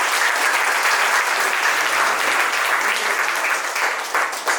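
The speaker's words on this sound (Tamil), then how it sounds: "கைத்தட்டலாமே." An audience at a charity foundation event applauds, a loud, steady burst of clapping close by that lasts the whole stretch without pause.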